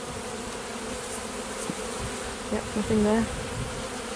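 Honeybees drone steadily in an opened beehive, a close, continuous buzz with a few louder passes as bees fly near, while a person speaks briefly.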